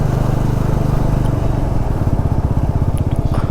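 A 220 motorcycle climbing a hill road near Diktel Bazar, its engine droning loud and steady up close, with a rapid throbbing pulse and some rattle as it pulls along.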